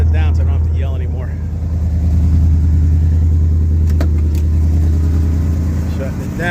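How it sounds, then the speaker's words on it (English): A 1966 Pontiac LeMans muscle car idles with its exhaust running: a loud, steady, deep rumble with a throbbing low pulse, heard close up with someone talking over it. "You can hear your exhaust."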